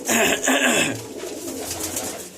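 A pair of pigeons, including a very young female, coo softly close by, with a soft burst of warmer low murmuring near the start before the sound thins out.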